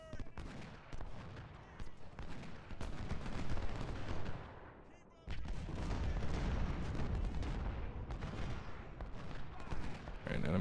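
Massed musket volleys from Civil War infantry lines in the Ultimate General: Civil War strategy game, a dense continuous crackle of gunfire with a brief lull midway before the firing resumes at full strength.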